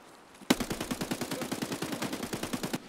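Rapid automatic gunfire in the video game Escape from Tarkov: a steady burst of about twenty evenly spaced shots, moderately loud and continuous for over two seconds, with no speech over it.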